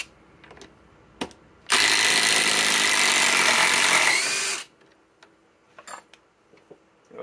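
A SKIL Power Core 20 impact driver drives a 6-inch timber lock screw in one loud, continuous burst of rapid hammering lasting under three seconds, framed by quiet handling clicks and taps before and after.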